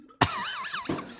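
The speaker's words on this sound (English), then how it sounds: "I was trying not to cough" A person coughs twice in quick succession, a sharp close burst followed by a second, softer one, with a strained vocal tone between them.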